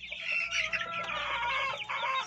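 Young hens, about a month old and of mixed colours, clucking and chattering close by in a backyard coop, with steady overlapping calls and no talk.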